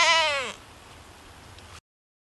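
A goat gives one short, wavering bleat at the start, then only a quiet background hush remains.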